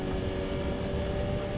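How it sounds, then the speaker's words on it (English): A 2011 UK Ford Fiesta Championship race car at Snetterton runs with a steady, droning engine note and a constant low rumble, held at an even level throughout. "The engine doesn't sound overly rough, but clearly not performing as well as Nick Tiley would like"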